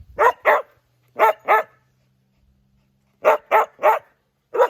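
A dog barks in quick pairs, close and loud, with a pause before a rapid run of four more barks.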